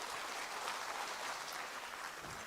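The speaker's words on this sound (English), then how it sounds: "Everybody give him a round of applause" An audience applauds a speaker walking on stage at a morning event, a dense, even patter of clapping from a crowd heard at a moderate distance and held steady throughout.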